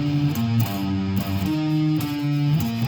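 Distorted electric guitar riff, a loud, close, heavily saturated line of quick changing notes played in a steady chugging rhythm, with no voices.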